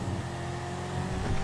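A car driving in the video game GTA 5, giving a steady, close engine drone with a faint rising rev near the end, with no talk over it.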